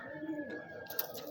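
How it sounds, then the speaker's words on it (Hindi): Pigeons on a rooftop perch giving soft, faint low coos in a brief quiet moment, with a light click near the end. "ये जी हमारे अड्डे पे किसी का आगे कबूतर बैठा है"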